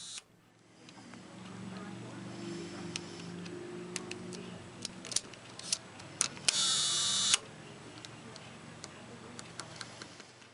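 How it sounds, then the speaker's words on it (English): A Copal One leaf shutter fires repeatedly in crisp, close clicks and brief bursts at uneven intervals, with one longer buzzing run, over a low background hum. "That shutter sounds good."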